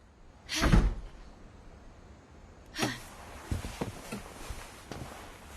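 A door opens in the video game What Remains of Edith Finch with one sharp, fairly loud burst, followed by a softer scrape and several faint knocks and creaks against a quiet background.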